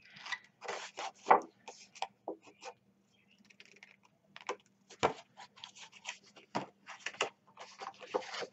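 Paper corners being mitered for a Graphic 45 Bloom mini album: a run of close, dry scraping and rubbing strokes in short irregular bursts, with a brief quiet pause midway.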